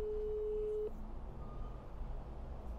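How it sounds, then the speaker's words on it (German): A telephone ringback tone heard while placing a call on a phone in Germany: one steady, pure tone lasting about a second, fairly quiet, then low background hum. "Deswegen rufe ich mal den Bernd an"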